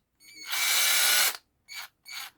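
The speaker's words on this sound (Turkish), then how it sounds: "ürün sıkma yönüne sağ tarafa yani delme sıkma yönüne doğru dönüyor." A Piranha 12V cordless screwdriver drill spins up in one long whirring run, then gives two short bursts, close and loud with no talking.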